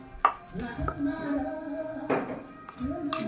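Repeated dull thuds of pounding pork in a mortar, several uneven strikes with brief pauses, close by, with a voice talking in between.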